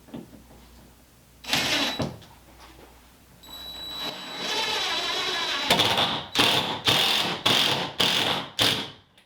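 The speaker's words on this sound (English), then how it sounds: "I'm going to put this screw in first and then level it." A power drill driving a screw into a wall to hang an LED bathroom mirror, a long whirring run followed by several short, close bursts in quick succession, with no one talking.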